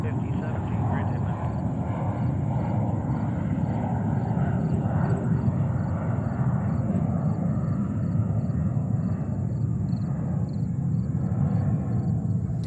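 Airliner at JFK airport in New York makes a steady low engine rumble throughout, with radio chatter and voices heard over the constant drone.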